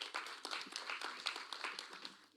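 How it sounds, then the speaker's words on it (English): Applause from an audience at a national tourism debate finals, honoring the competition judges: a steady patter of many hands clapping, moderately distant, continuous throughout. "So let's give them a round of applause, please."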